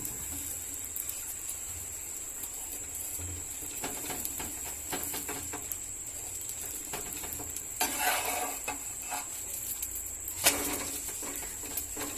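Chapati with an omelette stuck to it roasting in oil on a pan, a quiet steady sizzle with occasional scraping and stirring clinks from a utensil.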